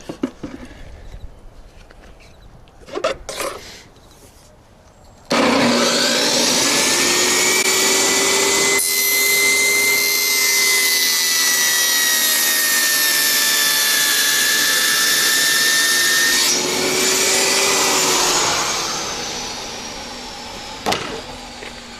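A power saw cuts luxury vinyl plank flooring inside a tiny house: a loud, continuous whining drone runs about twelve seconds before winding down, framed by quieter handling knocks and clicks.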